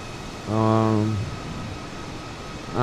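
Airplane engine in Microsoft Flight Simulator, a brief harmonic drone swelling for about a second over steady background hiss, then fading, with no talk over it.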